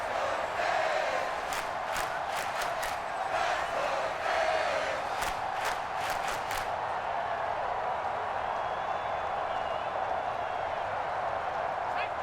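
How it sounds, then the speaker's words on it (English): A stadium crowd in the Madden NFL 24 football video game roars in a steady, loud wash of cheering, with sharp rhythmic claps or stomps in the first half and no other sounds on top. "This crowd turning up the decibel level."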